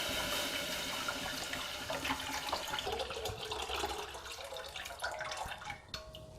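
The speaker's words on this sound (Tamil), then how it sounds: "அதில் வந்து 1 லிட்டர் தண்ணி ஊற்றிக்கணுங்க." A liter of water is poured into a pan on the stove for a cashew nut kulambu, a continuous splashing gush that trails off into lighter drips, fairly faint with no speech.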